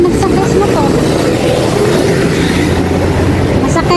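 A motorcycle ride gives a continuous loud rumble and wind roar throughout, with steady close engine and road noise and no pause.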